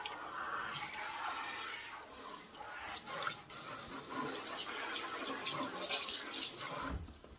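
Water runs steadily out of a portable shampoo station with no plumbing, a continuous hissing splash that cuts off abruptly near the end.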